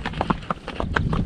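An Arabian horse walks along a mountain trail, its hooves clopping in a quick, uneven series of distinct close strikes.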